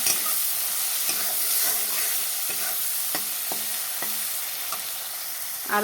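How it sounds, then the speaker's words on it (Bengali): Rice stir-fried in a pan with chilli powder and spices, a steady close sizzle with regular scraping and tapping of the spatula against the pan, no voices. "সব কিছু একসাথে দিয়ে একটু ভাত ভাজি করে নেবো"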